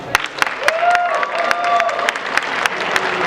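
Audience clapping at a comic convention cosplay contest, scattered sharp claps from a modest crowd heard under a voice speaking over a microphone.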